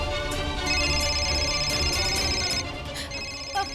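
A telephone rings with an incoming call, a tonal electronic ringtone repeating steadily indoors at moderate volume.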